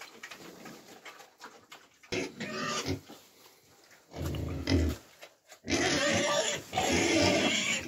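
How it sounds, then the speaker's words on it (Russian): Vietnamese pot-bellied pigs eat crushed grain feed, with grunting, snuffling and chewing that come in loud, close bursts separated by quieter stretches. "Дал свиньям и дробленки."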